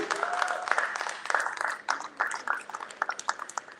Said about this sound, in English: I want you to give yourself a round of applause for being of the show.